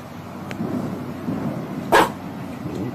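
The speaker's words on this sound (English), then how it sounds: "Those dogs are barking at us." Dogs bark in the distance outdoors, one brief muffled bark standing out over steady background noise.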